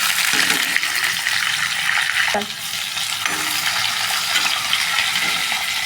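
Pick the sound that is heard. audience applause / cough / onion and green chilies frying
onion and green chilies frying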